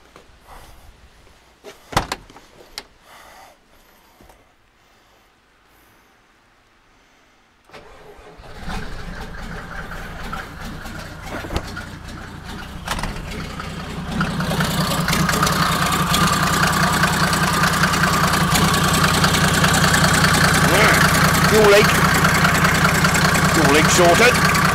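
A VW LT46 recovery truck fitted with a lorry turbo: a few clunks and knocks, then the engine fires and settles into a steady, close running note that grows louder and fuller as it keeps going, with no talk.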